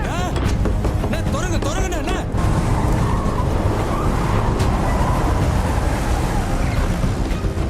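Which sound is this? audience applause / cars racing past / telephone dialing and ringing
cars racing past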